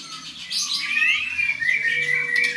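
A leg-ringed songbird in training chirps and tweets in quick, bright, sweeping calls, close and clear against a quiet background.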